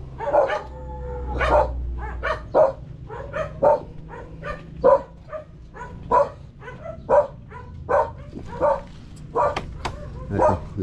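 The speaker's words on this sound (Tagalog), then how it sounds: "Aso!" A dog barks repeatedly at a building site, about a dozen sharp, fairly close barks in an uneven rhythm with short pauses between them, some yelping and whiny, over a faint low background rumble.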